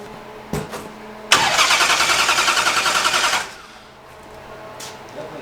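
A car engine cranks with a rapid stuttering whir for a couple of seconds, then catches and drops to a low, quieter idle.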